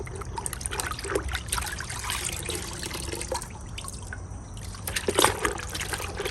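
Water trickles and splashes steadily, close by, as a dirty car air intake filter is rinsed, with a few brief louder dribbles and faint background noise, no one speaking.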